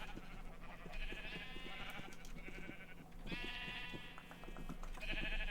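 Several Minecraft sheep bleat in a video game, a run of wavering calls rising and falling over a faint steady background hum, with no voices.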